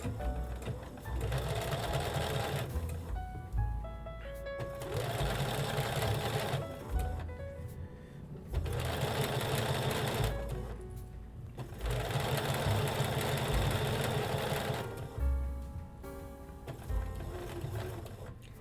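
Sewing machine stitching quilt binding with an edge foot, running in steady bursts of rapid mechanical whirring separated by brief pauses, close and clear with no talk.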